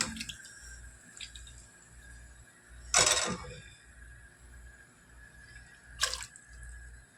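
Tomato rasam drips and splashes into a pot in a few short bursts, with two louder pours about three seconds apart over a quiet background hum.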